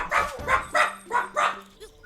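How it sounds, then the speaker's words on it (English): A household dog barks five times in quick succession, loud and close, followed by a faint trailing yip. "I think that barking is just my stepdad just came home"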